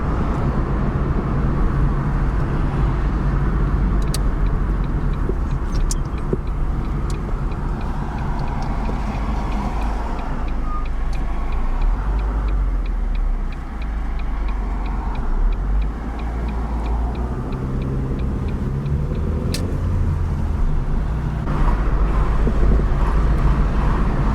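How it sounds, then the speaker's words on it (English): Busy road traffic near rush hour heard from inside a moving car, a loud continuous rumble of engine and tyres with passing vehicles swelling and fading and a ticking indicator. "as you can see, the traffic's getting quite busy now"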